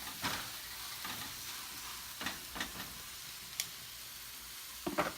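Quiet, steady frying sizzle in a pan, with occasional clinks and scrapes of a utensil stirring, no voices.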